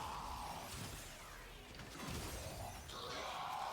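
Crystalline shattering bursts from Vitrica's glass wave breaking enemies in Warframe, a steady wash of crackling, splintering glass with whooshing sweeps, fairly loud and continuous with no talk.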